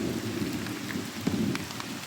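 Heavy rain pouring down steadily in a close, dense wash of noise, with no voices over it.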